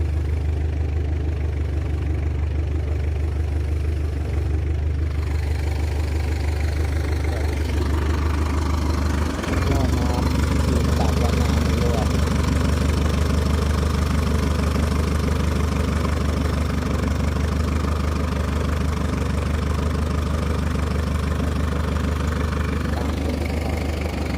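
An engine-driven water pump drones loud and steady at a shrimp pond as it drains the water, a continuous low-pitched rumble with no pauses.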